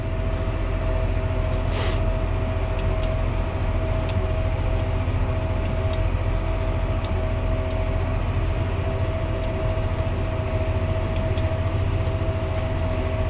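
A tractor-mounted flail hedge trimmer runs with its hydraulic oil still cold. It gives a loud, steady mechanical drone with a constant whine that carries on without a break, with a few faint ticks and knocks over it.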